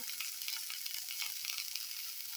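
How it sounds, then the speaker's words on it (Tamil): Steady, bright sizzling of mint and coriander leaves frying in hot oil, a constant crackling hiss with small bursts as the pan is stirred. "இப்போ இந்த புதினா, கொத்தமல்லி எல்லாம் நல்லா வதங்கியாச்சு"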